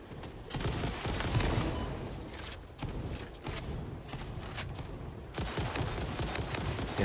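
Sustained bursts of rapid automatic gunfire from a gun in the video game Satisfactory, loud and close, rattling almost continuously with a couple of short gaps.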